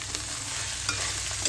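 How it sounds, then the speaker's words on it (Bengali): Eggplant sizzles and spits as it is stir-fried with potato in a Bengali falui fish curry base, a brief, steady frying hiss with a soft scrape of stirring. "এবার আমি এই বেগুনগুলোকে এর সঙ্গে একটু কষিয়ে নেব।"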